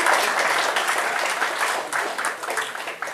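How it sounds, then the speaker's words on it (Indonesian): Lively applause fills a room after a Bank Kalsel memorandum of understanding is signed, steady clapping from a crowd that fades slightly toward the close. "Boleh tepuk tangan yang meriah."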